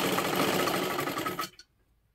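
A sewing machine runs in a steady, continuous motor whir while stitching a blouse, loud and close for about a second and a half. It then stops abruptly, with a brief faint tail before near silence.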